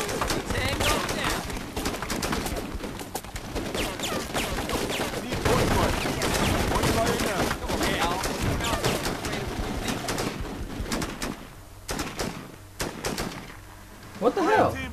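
Squad gunfire in the tactical shooter Full Spectrum Warrior, with loud, dense rattling rifle bursts and battle noise running throughout under excited shouting from players.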